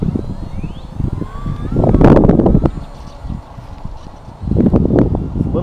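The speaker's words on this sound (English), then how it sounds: "It's a little windy out here," Wind gusts buffet the microphone in loud rumbling bursts outdoors, with the faint whining motor of a HobbyZone Duet remote-control aircraft passing in the background.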